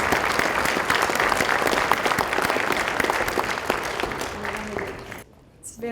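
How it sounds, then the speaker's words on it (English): Dense applause from a gala audience, steady and full for about five seconds before it quickly dies away into quiet. "Let's give them all a round of applause"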